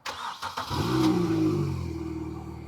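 A Mini Cooper engine cranks briefly with a few clicks, then catches and settles into a steady idle. It is close and loud, with no talking.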